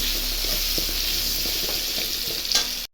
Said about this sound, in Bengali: লবণ দিয়ে আলুটা একটু ভাজা ভাজা করবো